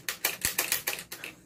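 Camera shutters click in a quick irregular series of sharp mechanical snaps, close and crisp, in a quiet setting.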